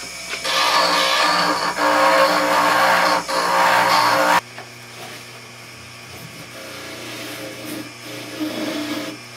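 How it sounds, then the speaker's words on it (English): A dental lathe with a rag wheel polishes a clear orthodontic resin denture duplicate, giving a loud, steady broadband whir for about four seconds that cuts off abruptly into quieter room noise. "finish up some of our polishing using my lathe burr and my rag wheel"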